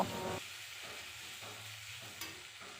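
Ground peanut paste goes into masala sizzling in oil, giving a close, continuous frying hiss broken by a few stirring strokes, with no talk.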